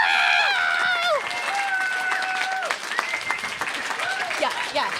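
Children and an audience at a live podcast show clap and cheer loudly, an energetic wash of hand claps with excited shouting and squealing voices on top.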